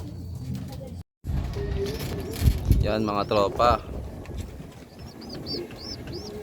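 Racing pigeons at a derby race give soft coos and brief bird calls in an open setting, while someone talks nearby over steady background noise.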